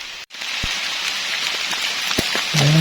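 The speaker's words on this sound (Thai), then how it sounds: "ฝนก็มาเลยครับพี่น้องบัดนี้ ตกอีกแล้วนะ" Rain falling in the woods during a mushroom hunt, a steady close hiss of drops on surfaces with a few sharper drip taps and a low hum rising at the end.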